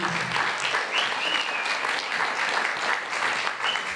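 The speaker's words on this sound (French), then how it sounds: "je crois qu'ils méritent un petit peu d'applaudissements tous les deux." An audience at a film festival masterclass on adapting novels for cinema claps for the guests, a thick, sustained round of applause from many hands that holds steady at moderate loudness throughout.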